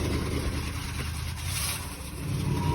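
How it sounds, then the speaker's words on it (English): A 1966 Ford Country Sedan wagon idles with an exhaust leak, giving a steady, close, low engine rumble with a rough, puffing undertone that holds evenly throughout with no talking. "That's my exhaust leak."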